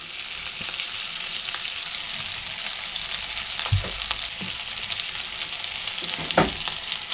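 Gravy for hamburger steak cooking in a pan, a steady bright sizzle with occasional soft stirring scrapes and clinks, close and continuous with no talking.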